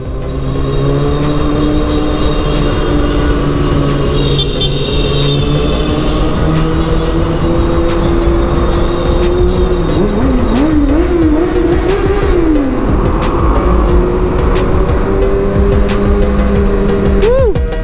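Motorcycle riding through Kaybiang Tunnel: a loud, continuous engine drone echoes off the tunnel walls, with pitch sweeps as the rider speeds up, while people talk over it.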